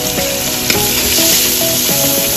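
Onion sizzles in hot oil in a pan as masala is started for a dum fish biryani, a loud, steady crackle close by with a few scraping stirs of a spoon and no talking.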